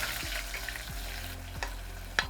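Onions hit hot oil in a sufuria with a close, steady sizzle and crackle, a few soft knocks and stirring clatters cutting through, no talking.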